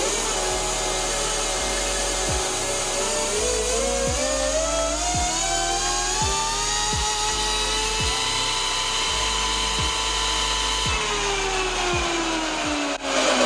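A 72V Burromax XRB electric motorbike in first gear spins up on a dyno, its motor whine climbing steadily and holding high, with a rhythmic low thumping from the rollers repeating about once a second throughout.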